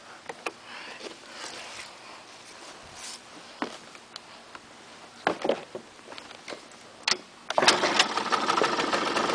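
A 2002 Bombardier DS 90 quad, cold and on a new battery, is kick-started: a few mechanical clicks and knocks precede a loud engine catching near the end and running steadily.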